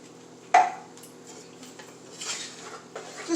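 Canned enchilada sauce, roughly a 10- to 12-ounce can, is dumped into a pan for cooking steak: a sharp clatter as it starts, then soft wet sloshing and faint metallic scrapes, fairly close.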